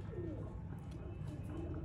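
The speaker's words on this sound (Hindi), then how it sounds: "और ये हैं दोस्तों लाजवाब किस्म के बच्चे उड़ाने वाले टैडी कबूतर।" Teddy pigeons coo softly on a rooftop in Sialkot, low murmuring calls under a steady rumble of background noise.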